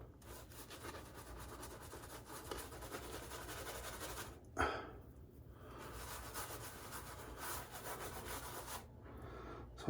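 Close, steady rasping of a Timeless safety razor scraping across a shaved scalp, continuous strokes with a brief louder scrape midway and no talking.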